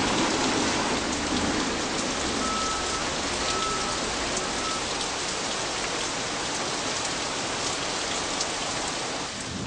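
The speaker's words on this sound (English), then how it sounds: "here would come the typical Malaysian Kuala Lumpur afternoon downpour" Heavy tropical afternoon rain in Kuala Lumpur, Malaysia, pours down steadily in a dense, constant hiss of drops, loud and unbroken from start to finish.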